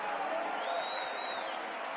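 Hockey arena crowd on its feet at a Penn State versus Minnesota game, a steady roar of cheering with a rising whistle on top, fairly distant and continuous.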